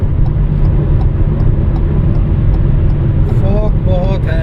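A car cruises steadily along a foggy highway on cruise control during a solo Delhi to Kolkata road trip, its engine and road noise forming a continuous low rumble, with brief tonal chirps near the end.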